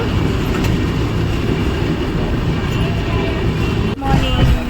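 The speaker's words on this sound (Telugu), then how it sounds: "సో ఆదోని నుంచి బయలుదేరింది ట్రైన్." A train departing Adoni rumbles along steadily at close range, a dense, continuous roar that dips briefly near the end before picking back up.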